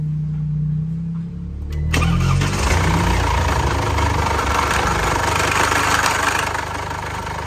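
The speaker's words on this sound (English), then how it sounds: "That noise is pretty obviously the timing chain hitting the cam cover" A Mercedes engine with a timing chain hitting the cam cover cranks and fires up, then settles into a loud, steady, close idle with a dense mechanical clatter throughout.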